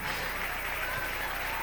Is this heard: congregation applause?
yes